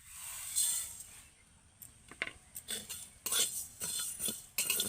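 Panch phoron, mustard, cumin and coriander seeds dry-roasting in a wok, giving a soft hiss and rattling scrapes of spoon against metal in irregular bursts, close and fairly loud, with no voices.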